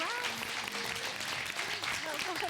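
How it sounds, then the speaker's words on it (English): Audience applause at a startup pitch event for female founders, with a speaker's voice talking over the steady clapping throughout. "If we can get a round of applause."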